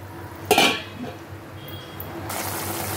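A lid is set onto a cooking pot of boiling water on a home stove while making rui fish chilli, one sharp metallic clank followed by a soft rattle, then a steady hiss of bubbling water.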